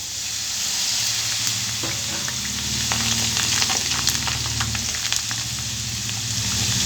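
Potato chips drop into hot oil and fry with a steady, loud sizzle and bubbling hiss, joined by faint scraping stirs, with no one talking.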